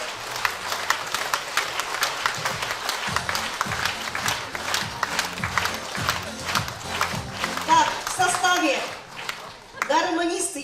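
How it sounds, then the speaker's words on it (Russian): A crowd applauds steadily with rapid, continuous clapping, with some cheering and voices rising toward the end. "Еще раз аплодисменты."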